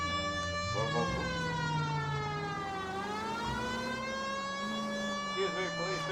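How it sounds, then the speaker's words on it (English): A police car siren in LA Noire VR wails loudly and continuously, its pitch sweeping down and back up, heard close with engine noise underneath. "Turn the sirens on"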